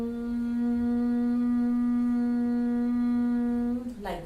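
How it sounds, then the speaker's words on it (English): One person makes a steady, closed-mouth humming sound during Bhramari breathing, a single long and even tone of about four seconds that fades at the end of the exhale. "just close your mouth and just produce humming sound"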